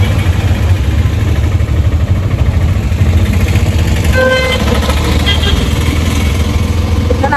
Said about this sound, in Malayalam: ഇപ്പൊ നമ്മൾ ഓട്ടോയിൽ തന്നെയാണ് പോകുന്നത്.